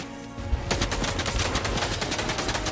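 Rapid automatic gunfire from a Fortnite match, with dense bursts of shots beginning abruptly and continuing loud and close to the end, with no talking over it.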